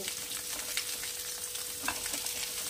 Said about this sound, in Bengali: জাস্ট একটু ভাজা ভাজা হবে, লাউ থেকে জলটা ছাড়বে। একদম এটা আমি ধিমে আঁচে লো ফ্লেমে করব।